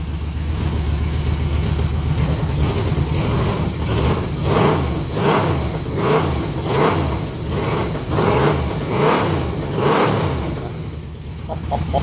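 A 2006 Yamaha Vmax motorcycle engine idles loud and close with a deep, lumpy, rumbling beat and rhythmic pulsing, sustained steadily with no talking.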